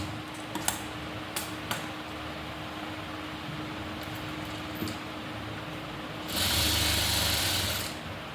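Sewing machine stitching nighty fabric, with quiet ticks and clicks, then a louder continuous whir of the motor running for about two seconds near the end.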